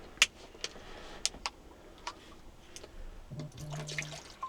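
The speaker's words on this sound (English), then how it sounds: "we'll just pour the whole bottle in there and heck with it." Spring water poured from a bottle into a coffee maker inside a Scania truck cab, with a few sharp clicks and then a gurgling fill, fairly faint.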